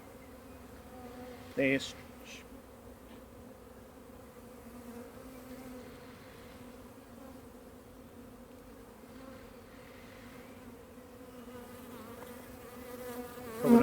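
Honeybees buzz steadily around a colony with chalkbrood being removed from a fallen tree, a continuous close swarm drone with a couple of brief louder bumps and a short spoken word over it.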